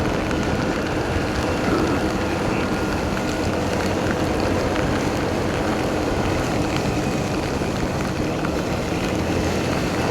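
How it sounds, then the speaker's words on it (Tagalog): Steady, heavy monsoon rain pours over a motorbike or vehicle ride along a town road in Lubao, Pampanga, blending with constant engine and road rumble; the dense wash stays even and close throughout, with no voices. "At yung ulan ay patuloy pa rin."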